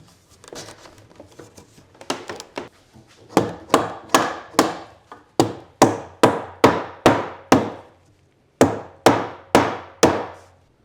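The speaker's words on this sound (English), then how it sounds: "line it up to the center, and we'll go ahead and hammer that in" Sharp hammer blows strike a wooden rafter of a chicken coop in quick, evenly spaced bursts, close and loud, with short pauses between series of strikes.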